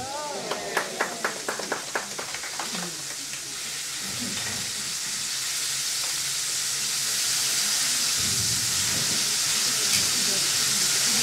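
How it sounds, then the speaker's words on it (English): Food browning and searing in a hot pan at a fair cooking demonstration, a few sharp clicks of utensils at first and then a rising, steady sizzle and hiss that grows louder toward the end. "I'm going to try to brown these on 3 to 4 sides."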